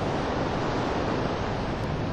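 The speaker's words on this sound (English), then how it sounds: "The weir behind me" Water rushing steadily over an old stone weir built around 1723 to feed a leat, a dense continuous roar with no breaks, loud and close, with no voices.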